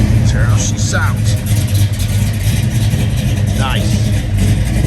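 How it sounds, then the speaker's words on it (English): A 1969 Chevrolet Chevelle V8 with a mild cam idles just after a cold start, a steady throaty low rumble close by, with people talking over it. "Just started, so you got no temperature yet, but that's how she sounds."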